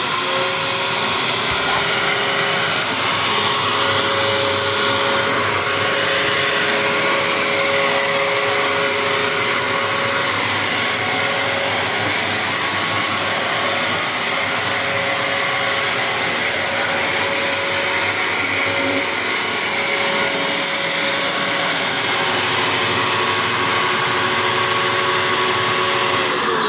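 A Bissell vacuum cleaner set for bare floor runs continuously, a loud steady whine and whoosh heard up close for the whole stretch with no talking.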